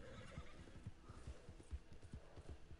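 Horse neighing and whinnying with steady clip-clop hoofbeats in the video game Red Dead Online, a close rhythmic trot under a faint wash of background ambience.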